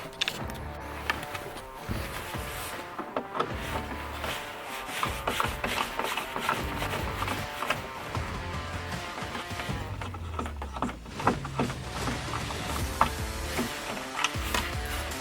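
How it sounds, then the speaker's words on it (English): Screws are backed out of the headlight cover on a first-generation Dodge truck, giving close, continuous rubbing and squeaky grinding with small metallic ticks and scrapes, heard alone without talking. "Now we're gonna go ahead and pull 3 screws to get this light cover off."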